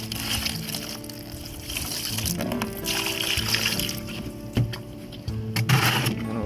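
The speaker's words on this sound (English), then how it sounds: "Pour some bleach in there." Bleach pours and splashes into a bucket holding wild hog skulls, a sloshing, trickling stream with uneven splatters and a few sharp knocks, close and moderately loud.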